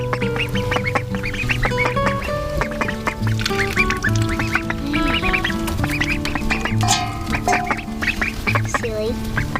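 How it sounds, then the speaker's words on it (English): Ducklings in a brooder keep up a dense, close chorus of overlapping peeps and quacks, with a person talking softly among the birds. "Good duckling."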